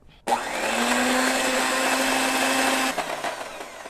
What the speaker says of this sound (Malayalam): ഇത് നമുക്ക് നല്ലതായിട്ട് ബീറ്റ് ചെയ്ത് എടുക്കാം.